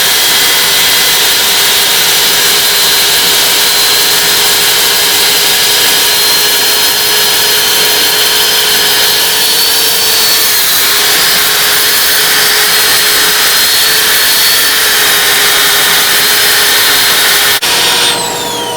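Power sander running on an epoxy bowl with 220 grit sandpaper, a loud continuous high whine and hiss held steady for the whole stretch, no talk.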